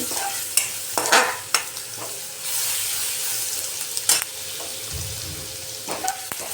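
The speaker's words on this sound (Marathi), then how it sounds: "लसणाला छान भाजून घ्यायचं" Garlic ginger paste fries in a hot pan, a hissing sizzle with sharp spatula scrapes and taps at intervals, close up and with no one speaking.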